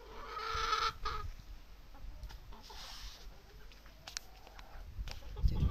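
Backyard chickens cluck softly at close range in scattered short calls over a quiet outdoor background, with a louder squawk near the start and a low thump at the end.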